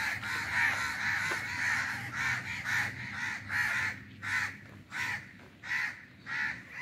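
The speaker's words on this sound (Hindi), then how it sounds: "कौवे बहुत बोल रहे हैं" Crows caw over and over in loud, harsh bursts on a morning walk, close by, with the calls coming faster and more broken toward the end and no talk.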